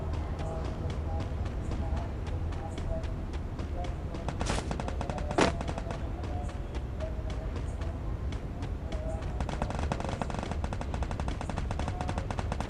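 Rapid automatic gunfire in the Free Fire battle royale mobile game, sustained bursts rattling continuously at moderate loudness with a couple of sharper shots midway, under the game's background sounds.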